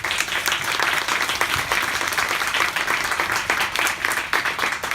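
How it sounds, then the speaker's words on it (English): An audience applauds panelists at the close of a WFP innovation accelerator session in Tokyo: dense, sustained clapping from many hands, steady and fairly loud throughout. "So please give our panelists a warm round of applause."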